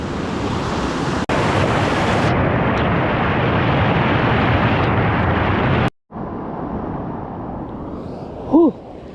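Water pours down at Tada Falls in Andhra Pradesh, a loud, steady roar of rushing water that cuts out briefly near the end.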